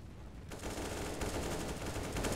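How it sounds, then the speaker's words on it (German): Gunfire in the video game CS:GO: a sudden burst begins after a quiet start, then continues as a rapid, fairly loud run of shots through to the end. "Ich hab keine Ahnung, wo der Schuss gerade herkam"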